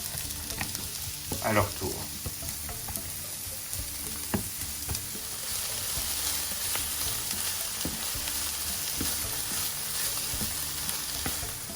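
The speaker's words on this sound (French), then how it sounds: "On met les oignons dans la poêle. On les fait revenir" Onions frying in olive oil in a pan, a soft steady sizzle with occasional scrapes and taps from stirring, a brief stretch of speech early on.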